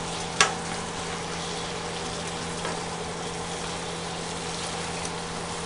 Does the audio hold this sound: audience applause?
no